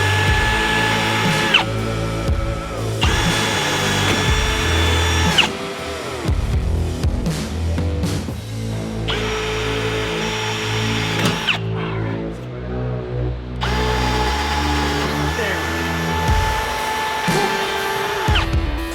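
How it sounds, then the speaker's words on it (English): A power drill whines loudly and continuously, its motor pitch rising and dropping as it bores a pilot hole through a Toyota Tacoma's metal frame, with a few brief pauses. "So now that we have our pilot hole drilled"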